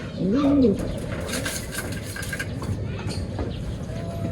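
A racing pigeon, just home from a long flight, gives a short close coo near the start, followed by soft rustling and handling noises.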